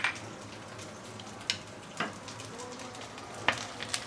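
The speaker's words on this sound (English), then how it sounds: "We're going to saute this for a minute or two before we continue." Ginger, garlic and the white part of spring onion fry in hot oil with a steady close sizzle, punctuated by a few sharp crackles and stirring sounds.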